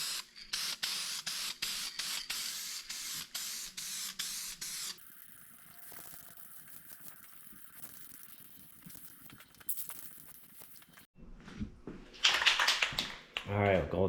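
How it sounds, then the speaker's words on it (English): Adhesion promoter sprayed onto a snowmobile windshield in bursts of close aerosol hiss, starting as a rapid series of short sprays and then settling into quieter handling noise before louder spray bursts return near the end. "go ahead and put the adhesion promoter on"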